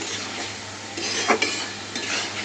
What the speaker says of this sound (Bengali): জাস্ট একটু মশলার সাথে এইভাবে সুন্দর করে কষিয়ে নেবে